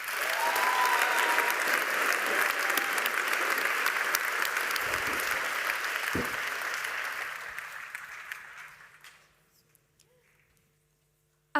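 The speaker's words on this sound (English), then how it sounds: "Let's give her a round of applause." A main-venue audience at a youth forum applauds the closing student speaker, leader of a sustainability team. The clapping is loud, dense and steady for about eight seconds, then fades out to near silence.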